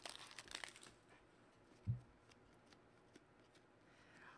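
Upper Deck hockey card pack wrappers crinkle and tear close by in short, quiet bursts, with a single soft thump partway through and faint rustling afterward.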